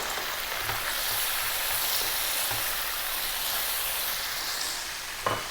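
Chopped onion, a cup of it, sizzling in a pan while building a garlic chicken tomato stew; a steady, dense frying hiss holds throughout at close range with a few small pops, no voices.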